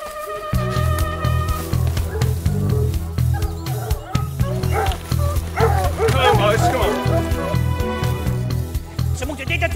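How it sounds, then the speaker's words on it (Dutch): Dogs bark repeatedly in quick bursts, fairly close, mixed with busy background noise and a rising whine. "Dat blaffen er wordt steeds harder."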